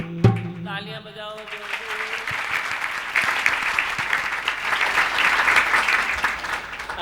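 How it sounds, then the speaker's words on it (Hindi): Group clapping at a birthday celebration, a steady crowd of hands applauding right after a brief opening tone, with faint voices in the background. "तालियां बजाओ।"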